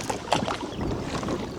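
Oars work a fishing boat by hand instead of an electric motor, giving soft splashing strokes and water lapping against the hull under gusty wind buffeting the microphone.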